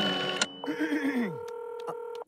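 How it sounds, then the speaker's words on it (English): An old-fashioned telephone in a cartoon, with a rotary dial whirring and clicking close up, followed by a steady electronic ringback tone that holds until a sharp cutoff. "This is an old-timey phone."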